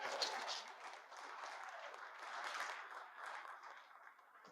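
Audience applause at a live podcast event at Trump National Golf Club Philadelphia, soft and somewhat distant, a steady wash of clapping that swells slightly midway and then tapers off.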